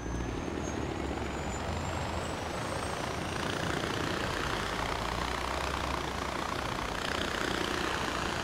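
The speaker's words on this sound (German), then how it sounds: "Mit unserem Helikopter hier." Helicopter engine in the Far Cry 4 video game, a steady loud droning whine with a continuous broadband rotor rush, unbroken and with no talk over it.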